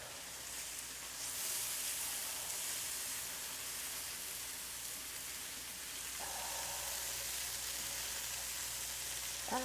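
Huli huli chicken sizzles steadily in a hot pan on the stove, a close, continuous hiss and crackle that swells slightly partway through.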